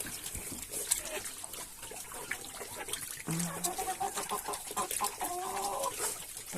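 Chickens cluck and squawk in a busy farmyard, several birds at once, with a dog barking briefly among them and some rustling around.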